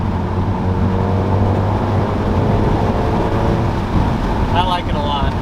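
A modified MK7.5 Golf R with an APR exhaust and IE downpipe droning steadily under throttle, a loud continuous engine and exhaust note mixed with road and wind noise.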